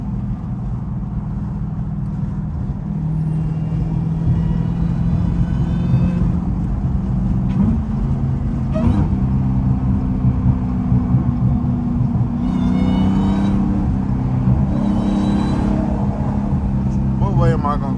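Hoodless Dodge Hellcat droning steadily while driving, its deep engine rumble and supercharger whine filling the cabin, continuous and loud with someone talking over it.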